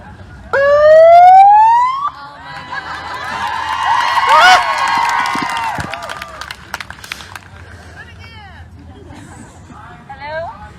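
A rising electronic megaphone siren wails loudly for a couple of seconds at a crowded meeting, followed by a crowd's commotion and shouting voices.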